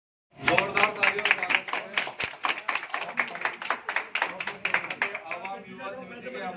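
Loud applause from an audience at a Bharat Jodo Yatra gathering, sharp close claps in a brisk, partly rhythmic patter that gradually loosens and fades, with faint voices underneath toward the end.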